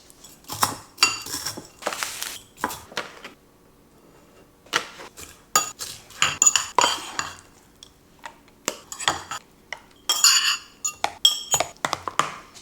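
Dishes, glass and cutlery clink and clatter in a home kitchen while Weet-Bix cheesecakes are prepared, a steady run of close, sharp knocks and chinks with brief pauses and no talking.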